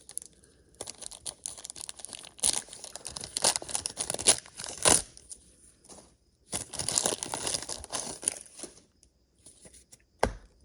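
1989 NFL Pro Set football card packs torn open by hand: bursts of crinkling, ripping wax-paper wrappers and rustling cards, close and irregular, with short quiet gaps and a sharp snap near the end.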